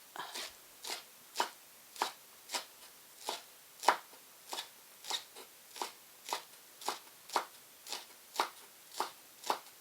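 Tofu cut with a knife on a board in even, crisp chops, about fifteen regular strokes at a steady pace, close and clear with no talking.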